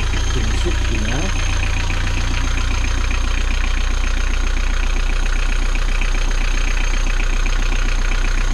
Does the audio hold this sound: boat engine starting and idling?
yes